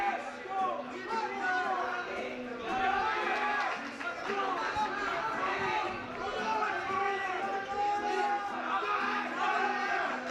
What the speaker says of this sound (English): You can hear his teammates in the background really cheering him on.